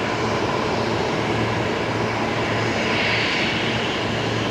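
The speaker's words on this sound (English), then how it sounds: "Jetstar 321neo heading out there along taxiway Bravo" Jetstar Airbus A321neo taxiing along a taxiway at Brisbane Airport, a steady, loud broadband engine roar that holds continuously from a moderate distance, with no talk.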